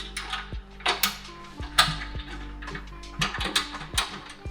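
A bolt on a hand-made Cypriot stainless steel Maxking BBQ 3641 rotisserie is tightened with an adjustable spanner. Close, irregular metallic clicks, ratcheting ticks and light clanks, with no talking.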